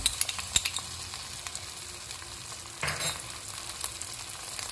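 Tomato puree fries in a pan of fish curry masala, a soft continuous sizzle with a few clicks and a brief stir scrape near the middle, quiet and close with no voices.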